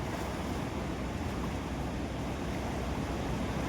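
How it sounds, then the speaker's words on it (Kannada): Water released through two gates of the Hippargi barrage near Jamakhandi roars as a dense, steady broadband rush, loud and continuous with no voices. "ಜಮಖಂಡಿ ತಾಲೂಕಿನ ಹಿಪ್ಪರಗಿ ಗ್ರಾಮದ ಆಣೆಕಟ್ಟು ಹಿಪ್ಪರಗಿ ಡ್ಯಾಮ್ನಿಂದ ನೀರು ಇವತ್ತು ಬಿಟ್ಟರು"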